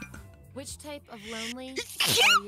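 A sneeze bursts out loudly near the end, coming right after people chatting and laughing while playing a Jackbox party game with friends.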